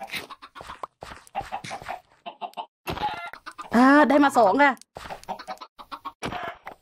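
Minecraft chickens cluck in a loud, warbling burst in the Create: Arcane Engineering modpack, set between short bursts of someone talking.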